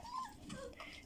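Faint, brief high whimper from a litter of newborn husky puppies, a soft yelp followed by a quieter whine close by.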